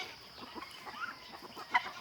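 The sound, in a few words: fighting rooster clucking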